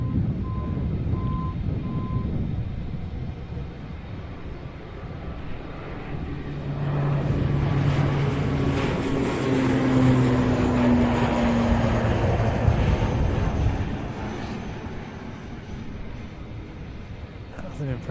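A military jet making a tactical departure from Fairford air show, a broad rising engine roar that swells over several seconds then eases, heard from a distance with wind noise and a voice nearby.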